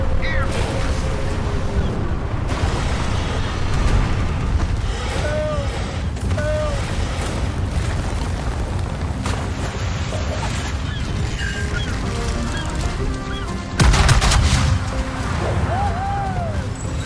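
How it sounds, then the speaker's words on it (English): Naval battle in World of Warships with a destroyer blown up and a ship on fire: continuous heavy rumbling booms and crackling gunfire under game noise, with a louder blast near the end and a spoken line over it. "Destroyer blown up. Ship is on fire."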